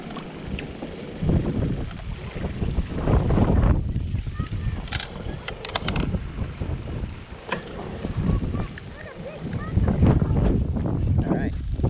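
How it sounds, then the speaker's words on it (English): Strong gusts of wind buffet the microphone in a constant low roar, rising and falling without letup, on Biscayne Bay, Miami, Florida, during kayak fishing. "It's super windy."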